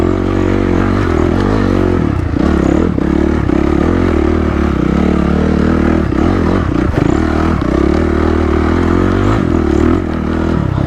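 Honda CRF250X four-stroke off-road motorcycle ridden through tight woodland single track, its engine droning loud and close throughout with rising and falling revs, rattling clatter and scraping over rough ground.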